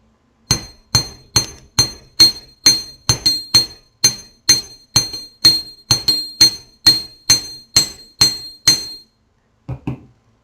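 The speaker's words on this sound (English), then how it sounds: "Hammer this a little bit more." A hammer strikes wire on a hard block for wire-wrapped earrings, about twenty sharp metallic taps in a steady even rhythm. The taps ring slightly and are close and clear, followed by a pause and two final blows.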